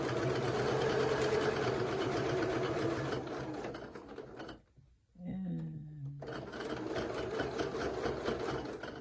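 A sewing machine stitches a seam on fabric for a cathedral windows quilt, whirring steadily and close for about four seconds. It stops briefly, then resumes for another stretch. A voice is heard faintly near the pause.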